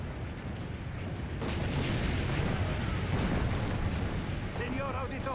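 Loud, continuous barrage of booming cannon fire and explosions in Assassin's Creed Brotherhood at Monteriggioni, dense and rumbling throughout with crackling bursts layered on top.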